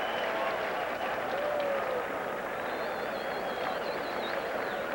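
A baseball stadium crowd applauding a fan's superb catch at a 1989 Cardinals versus Mets game in New York, with steady, sustained clapping and cheering filling the space while a broadcaster's voice talks over it.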